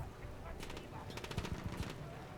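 Rapid bursts of automatic gunfire from the video game Battlefield 1 rattle in quick rhythmic volleys, moderately loud, over a background rumble of battle.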